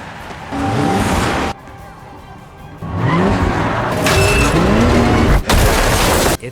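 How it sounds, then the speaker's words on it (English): Car crashing into the side of a sheriff's station in a TV drama scene, a loud impact with booming crunches and dramatic score swelling around it, broken by short quiet gaps. "a car crashes into the side of the sheriff's station"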